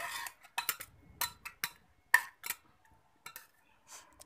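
Boiled chickpeas being stirred into fried masala in a pan, a series of light metallic clinks and taps of a spoon against the pan, irregular and fairly quiet.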